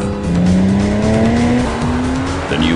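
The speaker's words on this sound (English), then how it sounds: "The engine sound is rich and distinctively Porsche." A Porsche Cayman engine, fitted with a two-stage resonance valve, rises steadily in pitch as it accelerates hard, a loud, close, continuous mechanical roar with no voices over it.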